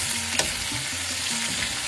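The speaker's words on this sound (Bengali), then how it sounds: "এইভাবেই আমি পেঁয়াজটাকে ভাজবো আলুর সঙ্গে।" Onion and potato pieces fry and sizzle in hot oil in a pan, a steady close crackle with a light scrape of stirring and no voices.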